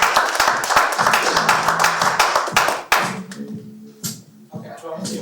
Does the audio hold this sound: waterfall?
no